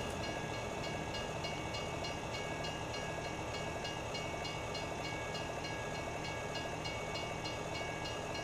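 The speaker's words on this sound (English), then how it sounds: "How many times have we had to wait on this train today?" Train rolls past in a farming simulator game, a steady, fairly faint rumble with even, rhythmic clacking of wheels over the rails, continuous and without any horn.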